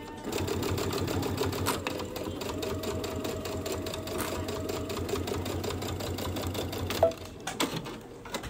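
A Brother Baby Lock sewing machine with an edge joining foot stitches down quilt binding in a steady, loud mechanical whir that runs continuously, then stops near the end, leaving a few small clicks and handling noises.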